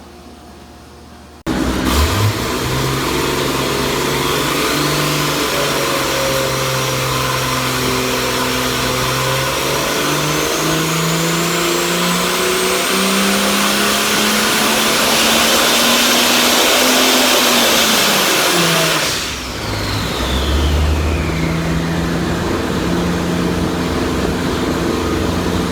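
A turbocharged, carbureted 292 engine runs intercooled boost, a loud, close, sustained roar whose pitch climbs steadily for about seventeen seconds, then drops sharply and settles into a lower, rumbling run.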